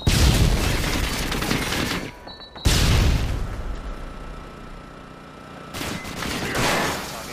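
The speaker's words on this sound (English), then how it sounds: "tossing stun grenade" In a Modern Warfare 2 match, bursts of gunfire and sharp blasts sound around a stun grenade going off, loud and close at first, then a brief lull before another harsh burst and lingering noisy rumble.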